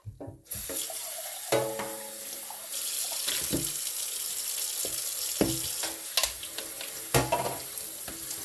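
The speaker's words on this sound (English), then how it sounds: "Going to drain and rinse." Canned black beans are drained and rinsed under a running kitchen tap, a steady close rush of water into the sink with occasional clinks and splashes as the can and beans shift.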